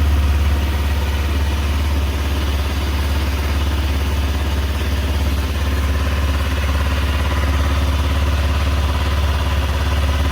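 A fuel-injected touring motorcycle fitted with pannier bars and a top box, started on a slightly low battery, idles steadily and close by with a deep, continuous engine rumble, no voices over it.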